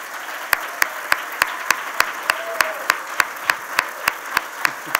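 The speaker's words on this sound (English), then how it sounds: "as the applause continues" A book award ceremony audience applauds, though the sound is mostly a steady series of single sharp claps at an even rhythm, clear and close over faint background noise.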